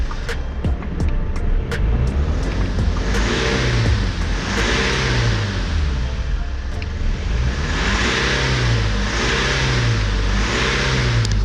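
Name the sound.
BMW 320d diesel engine misfiring and hunting on revs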